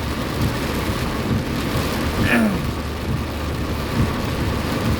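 Continuous heavy rain hisses and drums on surfaces, with a low rumble of thunder beneath it.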